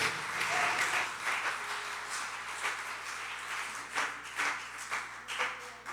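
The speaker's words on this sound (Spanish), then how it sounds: "Dale fuerte tu aplauso a Jesús." A church congregation claps and applauds in praise at a Spanish-language worship service, a sustained rolling wash of hands with rhythmic peaks toward the end, moderately loud and filling the room.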